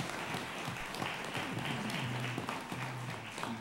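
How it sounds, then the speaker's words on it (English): Audience applause for the candidates at the end of a Kissimmee City Commission Seat 3 debate: a moderate, steady patter of clapping for a few seconds, with a faint voice underneath. "Let's give a big round of applause to all of our candidates."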